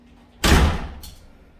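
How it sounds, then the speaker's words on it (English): A hotel room door at the ARIA in Las Vegas, a single sharp thud as it shuts, followed by a brief fainter click or latch sound, no talk. "You walk in the door."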